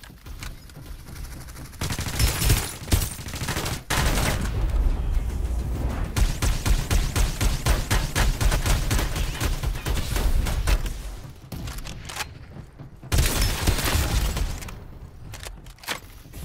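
Dense, rapid automatic gunfire in the Farlight 84 shooter game, loud continuous bursts broken by brief pauses, with a few sharper blasts and short lulls between volleys.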